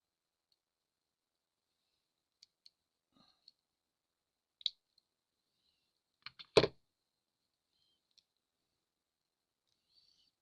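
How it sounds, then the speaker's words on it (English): Pliers snipping off wire ends while making a small button doll: a few faint, sparse clicks, then one sharp, close snap of the cut, with near silence around it. "Now I'm going to cut those very ends of that wire off"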